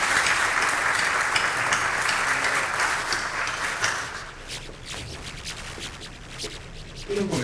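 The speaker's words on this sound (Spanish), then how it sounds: "quiero pedir un aplauso" An audience at a lecture on constitutional and electoral law breaks into sustained applause that thins and fades out over several seconds, leaving scattered claps.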